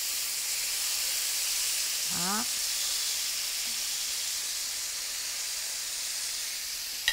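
Thin slices of pork belly fry in a pan with a steady, broad hissing sizzle that holds level throughout, and someone speaks briefly over it.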